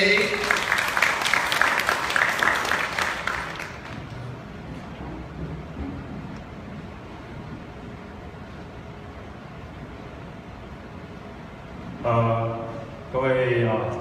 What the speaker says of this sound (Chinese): 我们现在就掌声欢迎 LAMI Girls 的领队刘介廷领队